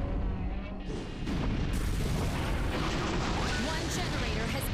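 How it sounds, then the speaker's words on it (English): Dense, continuous roar of explosions and heavy blasts as a power generator is wrecked in the Godzilla PS4 game, loud and sustained across the whole stretch with no pause. "One generator has been destroyed."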